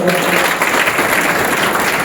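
An audience at a literature festival applauds in dense, sustained clapping that is loud and fills the room, with no break in it.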